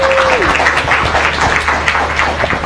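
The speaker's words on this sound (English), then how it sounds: "Let's give her a huge round of applause" Audience applause at a live celebration event, a steady wash of clapping from a large crowd filling the space, with a brief tonal sound near the start.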